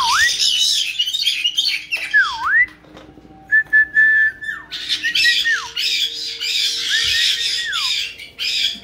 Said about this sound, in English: Goofy little bird.